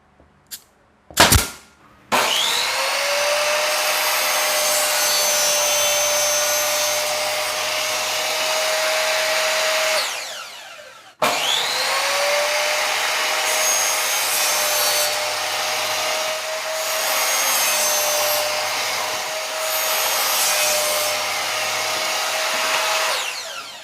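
A power saw cuts wood along a diagonal marked line while building a hexagonal beehive, two long loud steady cutting passes separated by a short break.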